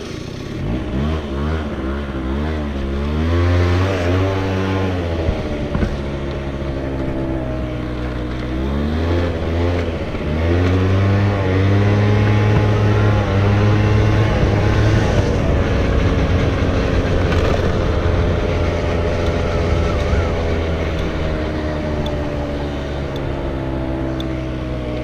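First-person ride on a scooter through a village, its small engine droning loud and close, pitch rising and falling as the throttle is worked, with steady wind and road rumble and no talking.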